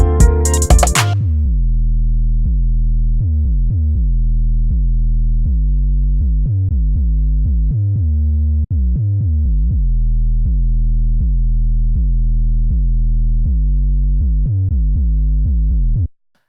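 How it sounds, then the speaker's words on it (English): A deep, booming 808 bass plays alone in a steady repeating pattern of low sustained notes, briefly preceded by a short noisy hit at the start. "I went in there and I tweaked the 808 a little bit"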